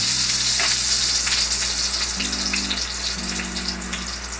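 Steak cooking to medium rare crackles in a hot pan with a steady, dense sizzle that continues throughout, with a low hum underneath.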